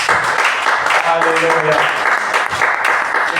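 A congregation applauding during a church service, with dense, sustained clapping throughout and a voice briefly calling out over it.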